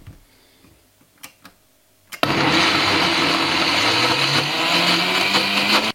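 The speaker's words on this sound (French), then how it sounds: "je vais pouvoir mixer le tout maintenant pour avoir une pâte assez dense" A blender whirs loudly and steadily, grinding a dense vegetarian meatball paste of breadcrumbs and vegetables, starting abruptly after a few quiet taps and clicks.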